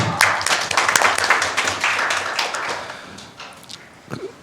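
A small breakfast-meeting audience claps to welcome a speaker, scattered individual claps that are fairly close at first and then thin out and fade within a few seconds.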